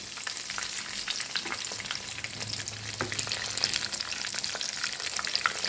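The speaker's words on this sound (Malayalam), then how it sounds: "ഇനി നമുക്ക് അതിലോട്ട് ഓരോന്നായിട്ടിട്ട് ഫ്രൈ ചെയ്തെടുക്കാം" Deep-frying prawns bubble and crackle in boiling oil, a dense continuous sizzle up close with occasional sharper pops as they are turned.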